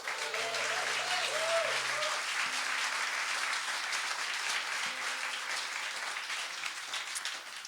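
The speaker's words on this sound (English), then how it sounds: "let's give a big round of applause to Jim at the back for doing sound." Sustained audience applause fills the clip, steady and full, easing off gradually toward the end with a faint low tone underneath.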